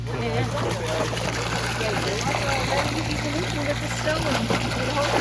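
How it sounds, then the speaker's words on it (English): River water pumped by a gas pump gushes in a steady stream over a constant low engine hum, while people talk throughout. "My gosh, that is a stream of water."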